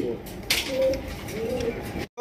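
Soft cooing of red pigeons at a pigeon farm in a short clip, low murmuring calls with some background rustle, ending in a brief silence then a louder noise.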